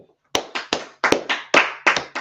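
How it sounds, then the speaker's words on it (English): A small group claps in short separate bursts, about eight distinct rounds of sharp hand claps with brief gaps between them, close and moderately loud, with no talking. "Let's clap it up for it, right?"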